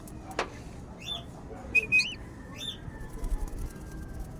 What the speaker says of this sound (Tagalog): Kawawang ibon.